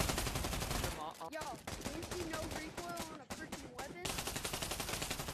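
Rapid automatic gunfire from a weapon in the VR game Pavlov rattles in loud, dense bursts, broken by short pauses and a few quieter single shots, with no speech.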